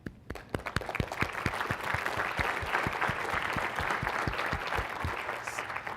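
An audience at a global health talk claps for public health partners, with sharp, regular individual hand claps standing out over a thick bed of crowd applause that swells quickly and stays strong.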